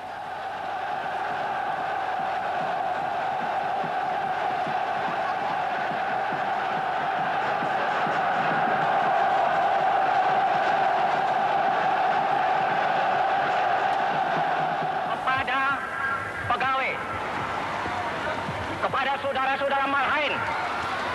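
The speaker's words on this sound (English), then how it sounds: "mobbed by cheering crowds, Sukarno drove to the Governor General's palace" A huge crowd in Indonesia cheers Sukarno as he drives to the Governor General's palace, a sustained roaring din for about fifteen seconds before a voice begins speaking over it.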